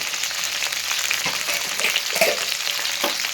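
Okra masala curry frying in a pan, a steady close crackling sizzle with faint scraping stirs throughout.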